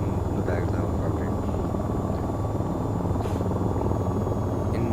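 Steady helicopter rotor and engine drone from VTOL VR, loud and continuous throughout, a broad low rumble with a faint high whine on top.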